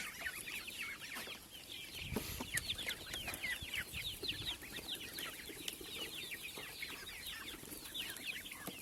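Chickens in a farmyard, among them a feather-footed hen, clucking and chattering in quick repeated calls, fairly faint and spread across the whole stretch with light rustling beneath.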